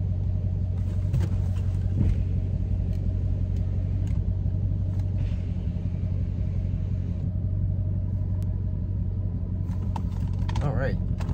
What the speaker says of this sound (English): I'm starting off with the paddle shifter so y'all can hear how it sounds